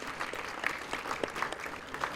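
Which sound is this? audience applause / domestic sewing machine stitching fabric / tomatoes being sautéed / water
audience applause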